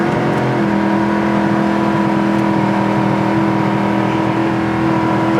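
A 1971 Chevrolet Camaro's engine pulls steadily and loudly up through the gears, a droning, whirring roar with layered tones that holds nearly constant, close to the car, with no talk over it.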